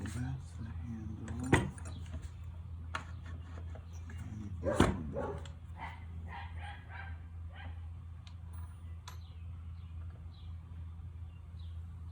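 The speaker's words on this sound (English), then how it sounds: "My neighbor's puppies are out right now." Puppies bark and yip sporadically at a distance over a steady low hum, with a couple of sharper barks standing out.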